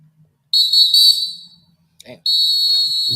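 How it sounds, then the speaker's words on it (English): Shrill, sustained whistle tones sound in two bursts, loud and piercing, separated by a short pause with a brief vocal sound. "them whistles be whistling"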